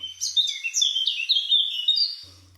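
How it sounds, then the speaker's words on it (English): Rapid, high-pitched bird chirps and tweets chatter almost continuously, fairly close, with a faint low hum briefly at the start and end. "So when the birds started chirping, I started freaking."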